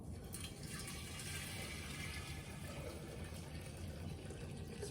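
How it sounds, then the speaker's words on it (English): Cold water pours steadily from a tap into a glass pitcher of rose hips, a continuous faint splashing fill with no talking. "we're gonna add about 3 cups of cold water directly into the pitcher"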